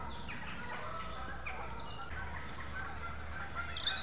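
Distant geese honk and call from a nearby lake over a steady low background hum, faint and continuous with occasional louder calls.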